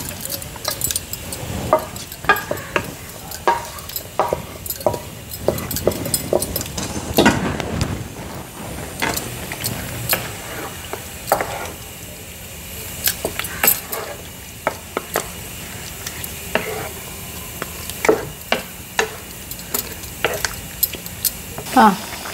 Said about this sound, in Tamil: இப்போ இதெல்லாம் கொஞ்சம் நல்லா ஈஸியாக மிக்ஸ் பண்ணலாம்.